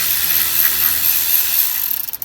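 A hand ratchet backs out small 5.5mm bolts from a Ford ignition switch housing. Its rapid, close clicking runs steadily, then breaks into a few separate clicks as it stops.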